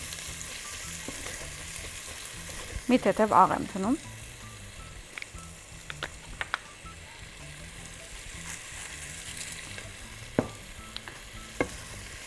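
Onion sizzling in oil in a pan for bulgur pilaf, a soft steady frying hiss with a burst of stirring clatter early on, under a woman's speech.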